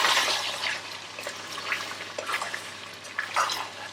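Khada masala mutton karahi is stirred in the pan after resting on dum, making quiet, intermittent scraping and wet squelching bursts.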